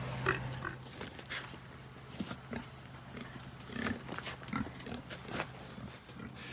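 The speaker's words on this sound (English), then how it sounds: "Pigs escaped." Loose pigs on a farm grunt and snort in scattered short bursts over a steady low hum, fairly faint and at close-to-middle distance, with no talk.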